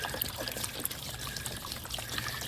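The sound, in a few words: water being let out of a pond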